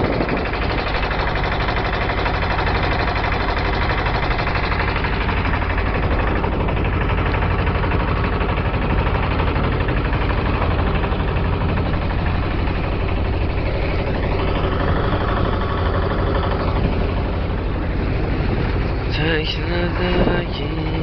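A boat engine runs steadily with a constant low rumbling drone throughout, loud and close, with a shift in tone near the end.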